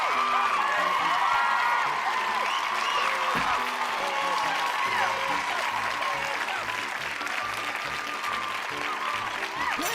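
Sustained applause and cheering from a big crowd, with thick clapping, scattered whoops and shouts, holding loud and steady from start to finish.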